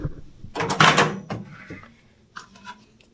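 A microwave door is handled in a home kitchen, giving a loud close-up clunk and rubbing thud followed by a couple of fainter clicks, with no talking.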